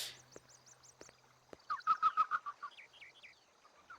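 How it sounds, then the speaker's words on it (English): Odd, faint bird calls sound in the Hitman 2: Silent Assassin video game: a series of short repeated chirps, then a quick run of louder warbling notes, against a quiet ambient background. "Weird bird sounds."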